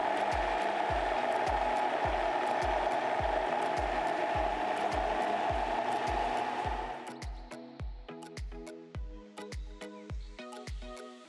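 A food processor whirring through a hummus mixture, a loud continuous motor drone with a regular rhythmic thumping that drops partway through into lighter, quicker pulsing knocks, no talking.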